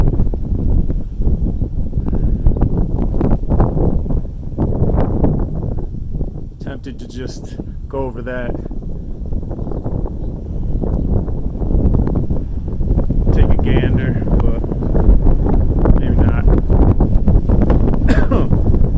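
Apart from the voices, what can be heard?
strong wind on a mountain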